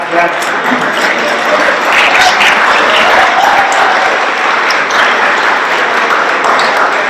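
Sustained applause from a crowd at a school silver jubilee celebration, steady and fairly loud throughout, with a voice faintly audible beneath the clapping.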